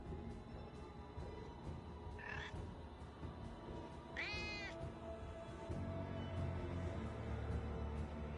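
A cat pet in Diablo 4 meows twice, a brief soft call followed by a louder drawn-out one, over a steady game backdrop with no talking.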